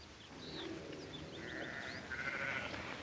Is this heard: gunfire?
no